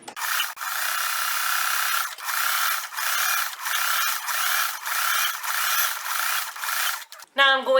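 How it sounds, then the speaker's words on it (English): A sewing machine stitches all the way around a fabric circle for a crazy quilt block, a steady close mechanical whir in several long runs with brief pauses, ending in a short squeak. "Just going to sew completely around the entire circle."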